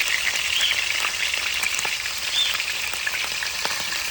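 Galunggong fish fry in hot oil with a dense, even sizzle and scattered small pops and crackles, close up and continuous with no voices.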